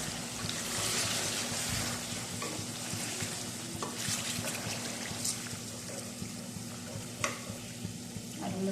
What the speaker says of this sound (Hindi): अच्छे से भूनेंगे।